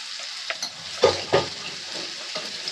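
Ground spices with turmeric, chili powder and cumin fry in a pan for a sorputi fish curry, a soft sizzle broken by a few sharp stirring clacks, close and moderately quiet.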